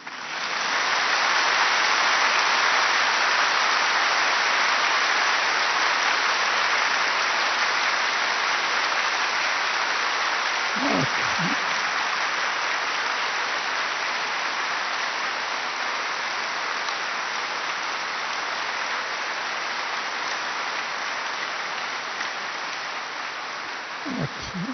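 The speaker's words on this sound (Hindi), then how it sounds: "ताली बजाओ" An audience claps steadily and loudly for a long stretch at a spiritual class gathering, a dense continuous wash of many hands with a couple of brief voice murmurs underneath.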